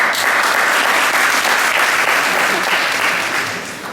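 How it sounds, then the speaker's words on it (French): Loud, sustained applause from a large audience, a thick wash of clapping that continues evenly and then begins to fade near the end. "je les applaudis en même temps que vous"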